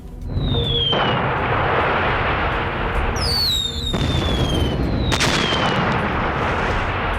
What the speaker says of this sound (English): huge loudspeakers that played the sounds of a bombing run, of jet craft going overhead, to inspire fear among the population